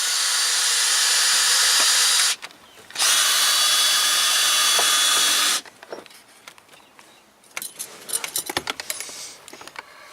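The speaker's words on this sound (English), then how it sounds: "Now I'm ready to drill." A power drill bores bolt holes for a fire extinguisher bracket in two loud, sustained bursts, then gives way to quieter clatter and handling of tools and parts.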